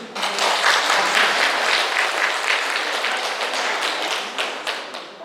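Applause from a lecture audience fills the room, dense and steady throughout, with no voices over it.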